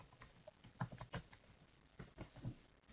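Keys tapping on a computer keyboard while a form field is filled in, irregular clusters of soft clicks with brief pauses, close and fairly quiet, no talking.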